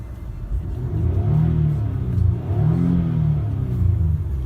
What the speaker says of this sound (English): when you step on the accelerator, you can really hear the engine